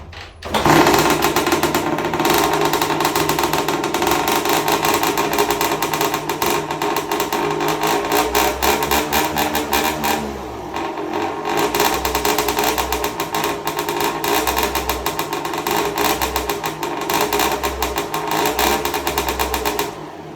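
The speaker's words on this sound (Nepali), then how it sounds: "1985 model Honda MTX 2 stroke engine" A 1985 Honda MTX two-stroke liquid-cooled motorcycle engine idles and revs continuously close by, a buzzy steady drone with brief throttle swells, with no talking.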